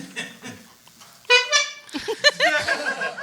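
A person imitates a goose's honk from Untitled Goose Game: after some soft chatter, a loud, buzzy nasal honk bursts out, followed by more animated, laughing voices.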